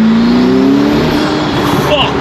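A car engine revs loudly from close range, its pitch climbing in a strong drone, while someone talks excitedly over it.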